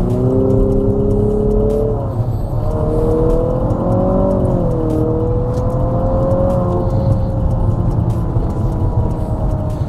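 A 2022 Infiniti QX55 engine revs hard with loud, droning intake noise from the front, a sustained rising and falling whine that stays strong and close throughout.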